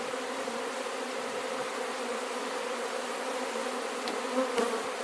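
Honey bees hum steadily in a continuous drone at an open hive during an inspection, close and moderately loud, with a brief rustle near the end.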